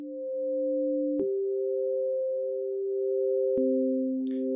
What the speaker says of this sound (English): We go back to a sine wave.